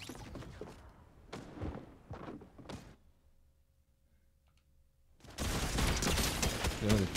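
Rapid bursts of Fortnite gunfire from a battle royale match, loud clustered shots in the first three seconds, then a quiet gap before a dense, loud wash of combat noise returns.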